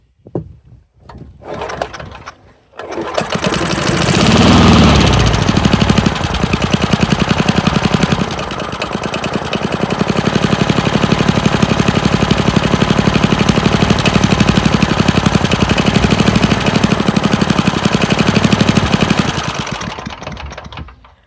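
An old Sears and Roebuck push lawn mower engine sputtering through a few pulls, then catching and running loud and close at a fast, rattly, steady idle for most of the time before cutting out at the end.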